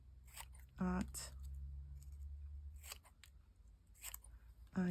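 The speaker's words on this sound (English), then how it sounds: "I just randomly, even just deliberately cut them" Scissors snipping paper squares for a junk journal, a few crisp close cuts with longer gaps between them, and someone speaking quietly between the snips.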